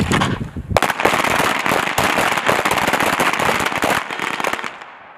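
Rapid pistol gunfire from many shooters at once on the firing line of a U.S. Army small arms championship, a dense crackling barrage of close and distant shots that holds for about four seconds, then tails off.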